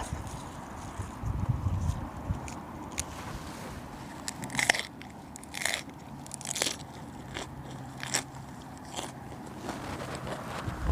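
Someone bites into a large salmon wrap with crisp Thai-style herbs, giving crunchy, crackly bites and chewing up close, repeated several times with no one talking.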